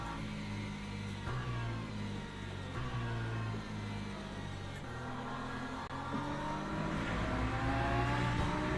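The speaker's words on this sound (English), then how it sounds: "Right, here comes the hypercars again. I mean the LMP2s." LMP2 prototype race cars in Le Mans Ultimate at Paul Ricard, engines droning and rising in pitch as they close in, growing steadily louder toward the end.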